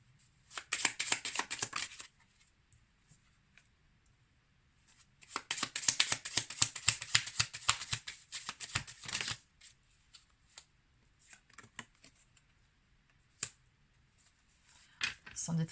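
Tarot message cards being shuffled, two long bursts of rapid riffling and flicking separated by quiet, then a few scattered single card snaps and taps near the end, close and crisp.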